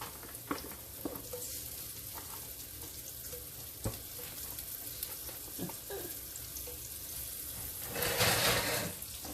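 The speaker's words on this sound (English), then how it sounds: "I'm just going to saute up the mushrooms." Mushrooms sauté in a pan still coated from browning beef for a rustic stew, a steady close sizzle with scattered clicks of stirring and a louder surge of frying near the end, no voices.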